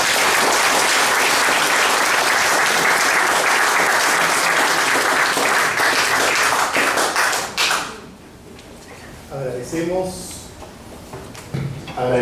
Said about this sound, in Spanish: nuestro amigo y compañero José Luis Aliaga, un fuerte aplauso.